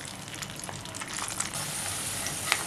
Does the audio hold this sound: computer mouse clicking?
no